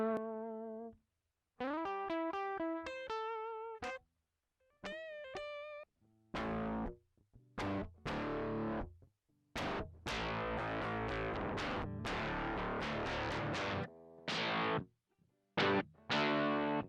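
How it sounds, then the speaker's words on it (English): A lo-fi digital degrader effect from the IK Multimedia MixBox gritties up a series of short instrumental phrases, each burst harsh and crunchy, broken by brief silences and growing denser toward the end. "It's a digital degrader."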